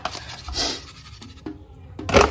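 Hand scrubbing while washing something, heard as several short rough rubbing and scratching strokes at close range, with brief pauses between them and a louder burst near the end.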